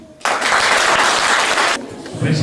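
An audience bursts into loud applause for a young poet at a poetry event, dense clapping starting abruptly, sustained for about a second and a half, then dropping back to quieter room sound.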